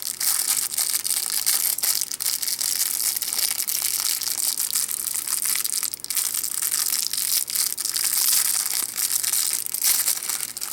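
A resealable plastic pack holding magnetic chess pieces is opened, making continuous loud crinkling and crackling of handled plastic up close, without pauses.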